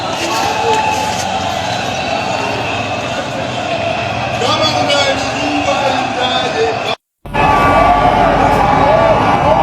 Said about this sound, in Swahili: Wewe, watu wanashangilia huku.